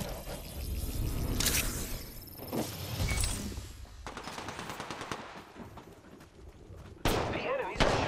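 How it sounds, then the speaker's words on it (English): Enemy gunfire in Apex Legends: bursts of rapid automatic shots crackling in volleys, some near and sharp, others duller, mixed with game effects and a loud blast near the end. "The enemies are shooting at me."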